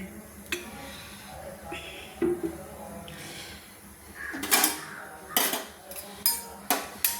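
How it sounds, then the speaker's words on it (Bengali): A metal spatula scrapes and clanks against a wok of mustard oil in a series of sharp, irregular strikes, close up, over a faint background hiss. "দিয়ে একটু আমি খুন্তি দিয়ে নেড়ে নিলাম।"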